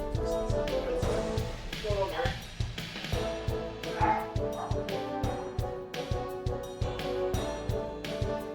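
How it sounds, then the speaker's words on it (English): A pet dog barks from somewhere nearby in a series of short yips amid steady game music and rhythmic tapping, heard through a stream. "My doggy is barking."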